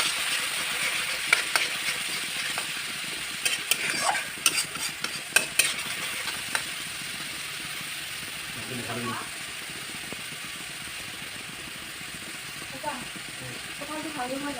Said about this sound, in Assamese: পিঁয়াজখিনি ভালকৈ ভাজি ল'ব লাগিব